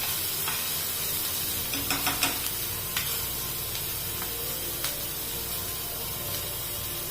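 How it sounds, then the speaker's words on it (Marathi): Capsicum stir-fried in a pan for a green kebab mix gives a continuous soft sizzle, with scattered clicks and scrapes of a spatula stirring, nearby and alone. "शिमला मिरची पण चांगली परतवून घ्यायची।"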